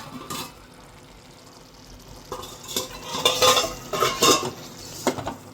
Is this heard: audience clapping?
no